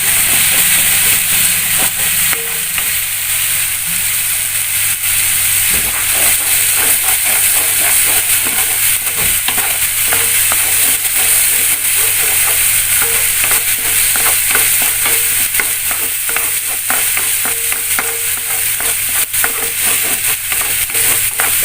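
Spice paste for a coconut-milk vegetable stew with tofu, tempeh and petai sizzles and hisses loudly in a hot pan, with constant frying crackle and occasional scrapes of a spatula stirring, alone without voices.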